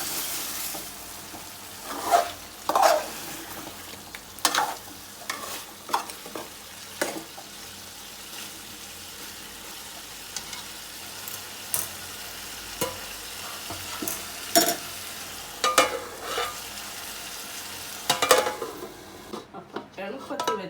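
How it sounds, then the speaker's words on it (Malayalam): Chicken curry with tomatoes being stirred in a pan, a spoon scraping and clinking against the metal in irregular bursts over a low background sizzle, fairly close. "തക്കാളിയും കൂടെ ഒരു എല്ലാം കൂടെ ഒന്ന് ഇളക്കി"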